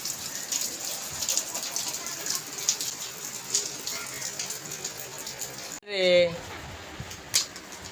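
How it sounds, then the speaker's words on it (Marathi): Heavy monsoon rain pours steadily outside a home, a dense, even hiss that fills the first several seconds before a voice briefly speaks up close near the end. "आज पाऊस भरपूर येतोय"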